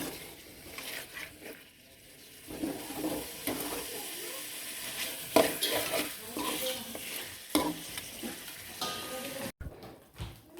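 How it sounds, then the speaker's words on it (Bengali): Goat meat curry sautéed in a pan, with a continuous close sizzle and repeated scraping, stirring strokes that come and go, ending abruptly. "এগুলো একটু ভালো করে কষিয়ে নামিয়ে ফেলবো।"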